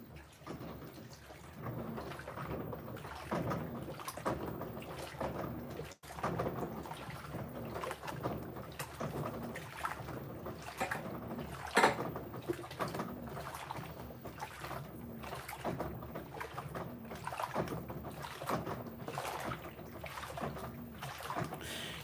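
An LG WT5480CW washing machine in test mode spins and churns with a rhythmic, repeating swish and thump, steady and fairly quiet, with no talking.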